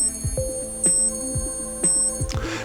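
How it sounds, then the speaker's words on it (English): A Seiko Rotocall re-issue digital watch alarm beeps in a retro electronic pattern, repeating short tonal phrases roughly once a second, close and clear with no talk. "we can hear the alarm is pleasantly retro"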